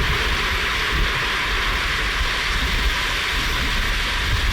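Strong wind gusting by a lake whipped into whitecaps, a steady loud broadband roar with low buffeting rumble throughout, no talk.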